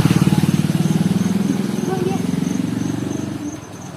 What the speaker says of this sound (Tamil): கொஞ்சம் வண்டி வருது